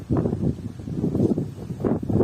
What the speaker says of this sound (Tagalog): Dito lang yung masyadong ang lakas ng hangin.